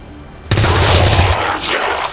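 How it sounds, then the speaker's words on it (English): Automatic gunfire erupts suddenly in XCOM 2, a loud sustained burst of rapid shots with a booming low end, then a brief trailing echo. "And then we gun him down."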